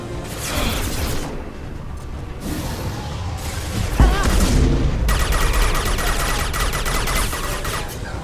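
Submachine gun fire in Mass Effect 2 crackles in dense, loud bursts, with rapid rattling shots, heavier thumps and mechanical clatter layered over the combat noise.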